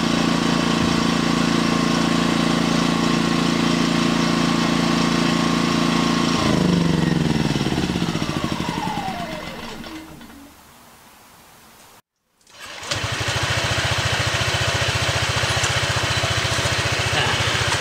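A Tsuzumi TIG2000iS silent inverter generator runs with a steady, loud mechanical hum, then winds down and fades to near silence. After a brief gap, broad, noisy running resumes.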